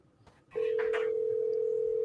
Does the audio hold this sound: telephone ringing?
yes